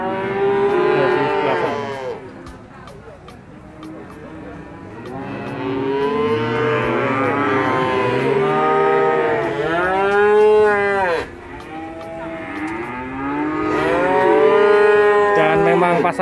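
Cattle at a livestock market moo repeatedly and loudly, long drawn-out calls from several animals overlapping close by, with brief gaps between bellows.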